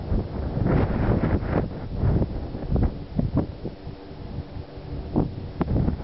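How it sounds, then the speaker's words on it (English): Strong mountain wind gusts across the Wind River Range in Wyoming, buffeting the microphone in irregular bursts of rumbling noise that rise and fall over several seconds. "Very windy today."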